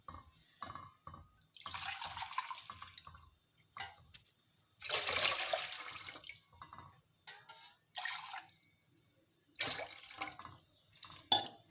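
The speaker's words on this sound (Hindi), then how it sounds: "मैं इसमें पानी डाल लूँगी।" Water pours in several bursts with gaps between them, splashing into a metal pan for making kulfi, with faint drips and clinks in the quiet stretches.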